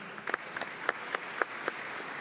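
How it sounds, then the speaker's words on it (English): A conference audience gives faint, scattered applause for a panel, a handful of separate claps spaced out at a distance over low room noise. "A round of applause for our panelists."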